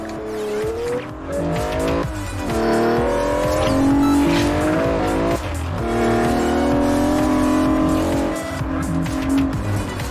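A Dodge Challenger in Forza Horizon revs hard and accelerates, its engine note climbing and shifting through gears with tire squeal, loud and close, no voices.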